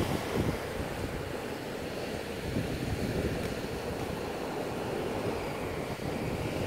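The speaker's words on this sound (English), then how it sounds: "the water as it runs back across it" Sea water washing back over rocks on Horgabost beach, Isle of Harris, a steady rushing surf wash with some wind noise, continuous and fairly close throughout.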